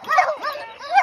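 A wild boar hunting dog barks and yelps in a quick burst of two or three close, loud calls, with a voice talking over it.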